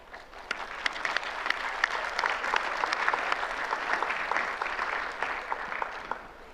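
Assembly delegates in a large hall applauding to approve a recommendation, steady even clapping from a sizable crowd heard at a moderate distance, sustained throughout with no talking.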